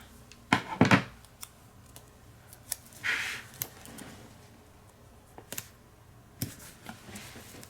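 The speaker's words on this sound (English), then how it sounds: "Cut the little tail off" Scissors snip the tail off a planner sticker sheet: a couple of crisp, close cuts early on, then a brief paper rustle and scattered light handling noises in a quiet room.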